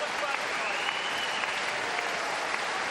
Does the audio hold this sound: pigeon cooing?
no